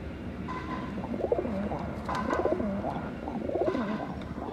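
Army pigeons cooing in a loft, several close, soft rolling coos repeating in overlapping bursts over a low background hum.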